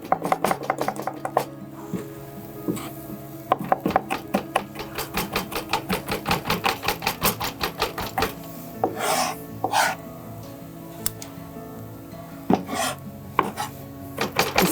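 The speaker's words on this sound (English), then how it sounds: "you're going to get that to a nice small dice, almost like a minced garlic" A knife chops and minces garlic on a cutting board in a home kitchen. Quick, rhythmic, close-up taps come in fast bursts with short scraping pauses between them.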